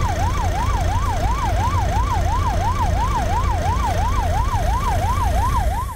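An ambulance siren wails through a snowy traffic jam during a blizzard, its rapid rising-and-falling tone loud, close and continuous over the low rumble of idling cars.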